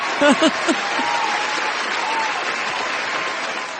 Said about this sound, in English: Let's give an applause for American economy